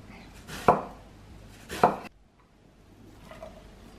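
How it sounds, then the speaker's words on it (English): An onion sliced with a knife, two crisp, distinct chops on a cutting board about a second apart, close and clear, followed by quieter faint handling. "And then you want to get a onion and just slice it."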